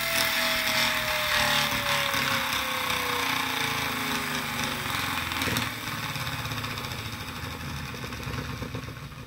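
A homemade pulse motor with a heavy, fully epoxy-filled flywheel spins up and runs, giving a steady, loud mechanical whir with a falling tonal sweep early on, continuous throughout with no talking.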